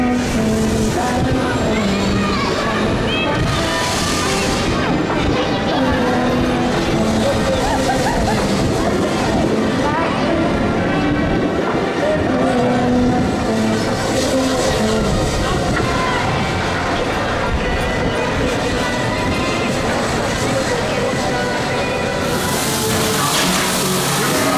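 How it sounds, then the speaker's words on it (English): Busy ride noise at Blackpool Pleasure Beach amusement park by the ghost train, with a steady loud wash of rumbling machinery, crowd murmur and mechanical clatter running throughout. "you just love the classic amusement park sounds here at Pleasure Beach, especially of the ghost train"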